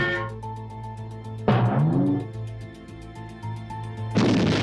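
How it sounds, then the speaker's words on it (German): Two loud, sharp gunshot blasts a few seconds apart, each with a booming decay, over a steady low hum. "Ein zielgenauer Schuss beendet das Wüten des Ungeheuers."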